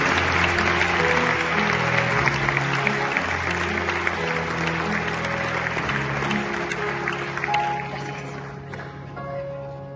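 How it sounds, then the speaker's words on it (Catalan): An audience at a business awards ceremony applauds, a loud, sustained wash of clapping under steady background music that tapers off near the end. "Un aplaudiment per ells, sisplau."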